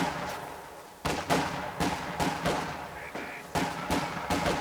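Rifle fire in a Company of Heroes 2 infantry firefight between Volksgrenadiers and British Tommies at point-blank range, a string of sharp cracking shots in irregular bursts, fairly close, with a voice talking over them.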